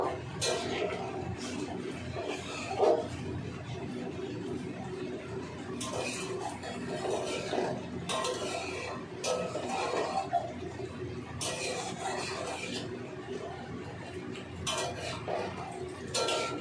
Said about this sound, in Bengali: ততক্ষণ আমি এখানে জল দিয়ে নিলাম। ভালো করে নাড়াচাড়া করে নেব।